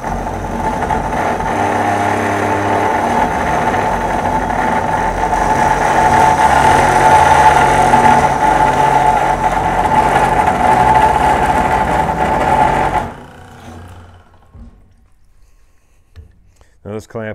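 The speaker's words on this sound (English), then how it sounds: "So here on the cold saw, again, same size material, and we'll cut through here." Cold saw cutting through metal stock in a workshop, a loud steady grinding whine lasting about thirteen seconds before it cuts off, with quieter clicks and machine sounds afterward.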